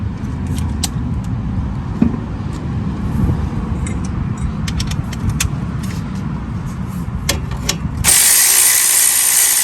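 A ratchet wrench clicks rapidly and steadily while tightening a 12 mm bolt on the front strut of a Toyota Camry, close and loud over a low rumbling background, with a brief louder burst of noise near the end.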